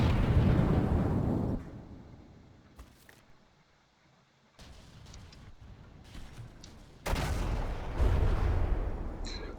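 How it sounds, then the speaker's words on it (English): A warship turret explodes in a naval battle game, with a loud rumbling blast that fades to a quieter stretch, followed by scattered crackling and then a second heavy, sustained explosive roar. "turret got exploded on the blazing liquid"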